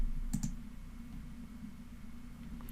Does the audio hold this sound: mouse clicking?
yes